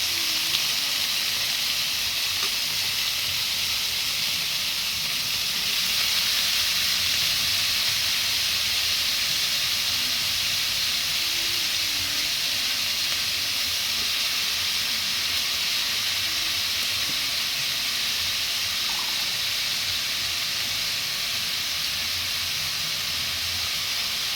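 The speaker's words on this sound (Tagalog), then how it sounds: "So, ito, nakahanda na rin yung ating ampalaya. Siyempre, gigisa-gisa na lang natin siya." Bitter melon (ampalaya) sautés in a hot pan with a steady, bright sizzle and hiss that holds evenly throughout, close and constant, with no voices over it.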